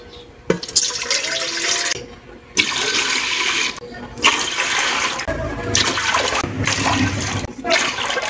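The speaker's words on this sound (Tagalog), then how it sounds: "Magsalang na tayo ngayon ng 6 cups na tubig." Six cups of water poured into a cooking pot while making creamy ice candy, a steady rushing pour that breaks off and restarts in several bursts, close and fairly loud.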